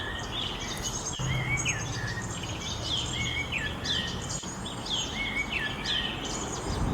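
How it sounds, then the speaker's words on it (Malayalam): Birds chirp and tweet repeatedly in short bright bursts near a tree, fairly close and clear over a soft outdoor background with faint insect buzz. "ഈ കിളികൾക്കൊന്നും പിന്നെ അത്രയ്ക്ക് പേടിയില്ല കേട്ടോ."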